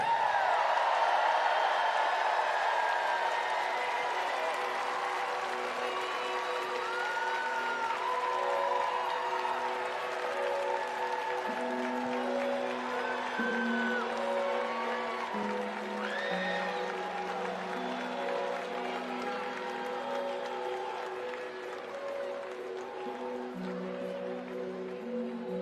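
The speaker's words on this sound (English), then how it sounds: "please give a warm welcome to Team Australia" Sustained audience applause and cheering welcome Team Australia at the 2024 Transplant Games of America opening ceremony, a broad steady crowd roar under background music that carries through the whole stretch.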